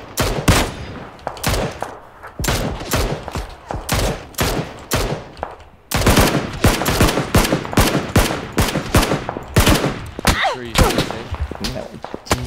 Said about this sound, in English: Everybody's shooting us.